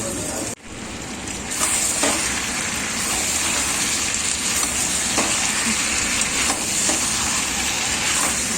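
Meat with spices sizzling in a pan during kosha, a loud steady frying hiss close by, broken by a brief stir at the start and occasional faint scrapes, with no talking.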